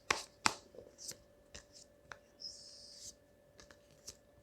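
Tarot cards handled on a table in a quiet room, giving several soft separate slides, snaps and riffles of card stock spaced out irregularly, close and faint, with no talk.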